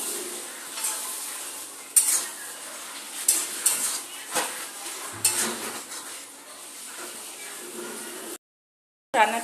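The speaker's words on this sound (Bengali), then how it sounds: "আমি উপর থেকে আরও একটু কাঁচা সরষার তেল এইভাবে দিয়ে দেব দিয়ে আরও একবার খুব ভালো করে নাড়া দিয়ে নেবো" Taro stolon curry with fish roe, finished with raw mustard oil, is stirred in a pan. Close scraping and clinking strokes sit over a gentle sizzle, and a brief silent gap falls just before the end.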